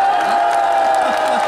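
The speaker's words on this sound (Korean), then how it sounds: "큰 박수 한번 주시기 바랍니다" A crowd at an outdoor music broadcast for a local festival day claps and cheers, a broad roar of applause with a steady tone running through it and no clear voices on top.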